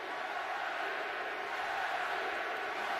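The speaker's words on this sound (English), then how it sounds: "This crowd's starting to become alive, Tim." A stadium crowd at an LSU Tigers vs Arkansas Razorbacks college football game roars in a steady, dense wash of cheering and shouting, distant and unbroken.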